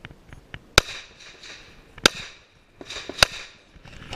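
Sharp gunshots from pistols at an outdoor IDPA defensive shooting match, three loud cracks spaced about a second apart, with fainter distant shots and range noise between them.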